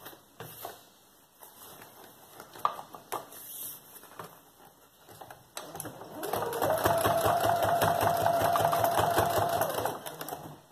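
A sewing machine stitches a children's backpack, starting with scattered clicks and fabric handling, then settling into a loud, continuous fast-running hum for the last several seconds.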